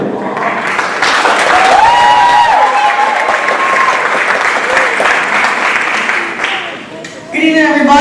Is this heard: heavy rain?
no